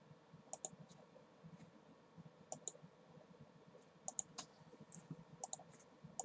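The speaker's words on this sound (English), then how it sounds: "Did not mean to click that." Sharp, faint mouse clicks from a Pokemon TCG video game, arriving in small pairs and clusters spread across a quiet background with no talking.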